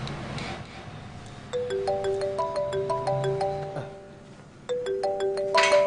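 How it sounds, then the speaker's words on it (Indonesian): A mobile phone rings in an Indonesian TV film scene with a clear, close melodic ringtone of chiming notes, the rising phrase playing twice over faint room sound. "Ma, bentar ya, aku ada telepon."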